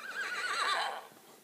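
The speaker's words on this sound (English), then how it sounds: "We have a horse that responds to commands." A digital horse in an augmented reality OS demo gives one loud whinny with a wavering, descending pitch that fades out over about a second.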